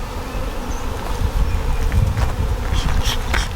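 Honeybees buzz around an open hive while it is transferred to a new box, a dense, continuous hum with individual bees droning past nearby, fairly loud, with no talk.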